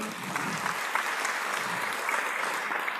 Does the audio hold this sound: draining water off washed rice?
no